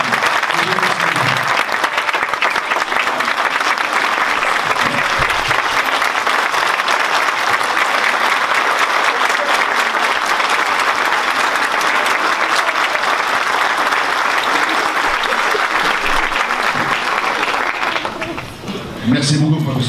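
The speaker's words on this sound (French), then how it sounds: "Je vous demande de l'applaudir chaleureusement" An audience at an honouring ceremony in Fès applauds Rachid Yazami with sustained, dense, warm clapping that holds steady for nearly twenty seconds before thinning out at the very end.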